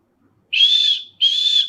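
Two sustained lip whistles from a mimicry artist, each clear and steady at roughly the same pitch and lasting about half a second, separated by a short gap, heard alone without talk.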